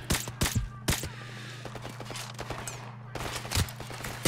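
Gunfire in the video game Call of Duty 4 during a sniper mission, several sharp, loud shots in quick bursts, some overlapping, over steady low background noise.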